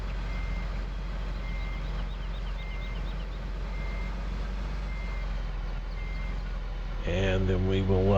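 A truck in Farming Simulator 2015 backs up a trailer, with steady reversing beeps repeating at even intervals over a constant engine drone. A louder mechanical rise comes near the end.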